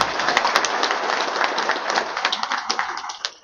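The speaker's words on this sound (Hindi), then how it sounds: "ताली बजाइएगा सब।" Audience applause at a BJP political rally, a steady crowd of many hands clapping close and loud, thinning toward the end.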